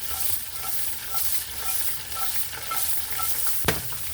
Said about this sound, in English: Okay, keep this sauteing.